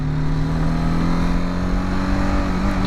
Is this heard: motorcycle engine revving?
yes